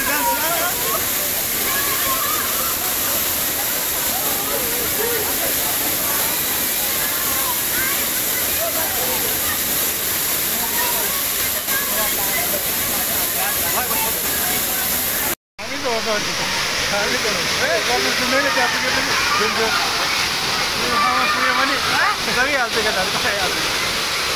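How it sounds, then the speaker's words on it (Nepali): The Jhor waterfall roars in a loud, unbroken wash of white noise close by, cutting out for an instant partway through before the heavy rush resumes. "ओ मागो खत्रै झरना हो के।"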